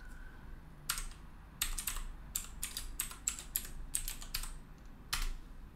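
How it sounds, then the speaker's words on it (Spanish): Typing on a computer keyboard, about a dozen crisp close clicks in an uneven rhythm with short pauses between bursts, with no talk. "He dejado de mostrarte las teclas que estoy pulsando porque estaría feo."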